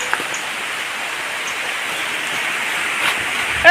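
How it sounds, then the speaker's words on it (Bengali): Heavy rain pouring down outdoors: a loud, dense, even wash of falling water holds steady from start to finish, with a brief bump near the end. "বৃষ্টি কিন্তু জোরে আসছে"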